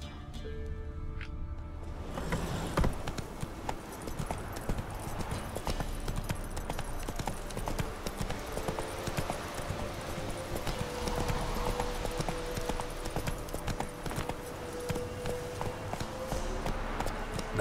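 Roach the horse gallops across terrain in The Witcher 3: Wild Hunt, a rapid, steady clip-clop of hooves that starts after a brief quiet opening and carries on under ambient game music, with an occasional whinny.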